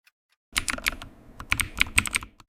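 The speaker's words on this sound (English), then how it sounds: "It's keyboard typing." Keyboard typing in rapid irregular bursts of sharp clicks, close and fairly loud, with a short pause midway before a denser flurry of keystrokes; no voices.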